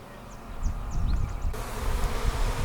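A swarm of honey bees buzzing while being moved from a bag into a hive with foundationless frames, a steady droning hum close by with a few sharper whines of individual bees flying past.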